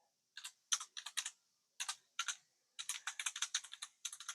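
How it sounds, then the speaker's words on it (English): A password being typed on a computer keyboard: several quick bursts of crisp key clicks with short pauses between them, close and alone. "type in my password again"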